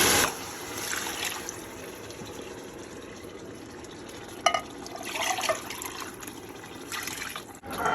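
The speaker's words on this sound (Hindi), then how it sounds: "अब हम इसमें जो है वो यखनी का शोरबा शामिल करेंगे" Yakhni broth for veal pulao pours steadily into an Instant Pot, giving a continuous liquid trickle and splash with a few brighter gushes, close and moderately loud, with no talking.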